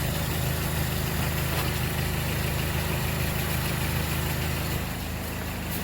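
A car engine idles steadily with its alternator removed, a constant low rumble that holds evenly and close throughout with no voices.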